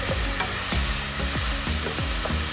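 About 3 pounds of sirloin beef sizzling in a pan, a loud close hiss with rhythmic scraping stirs about every half second.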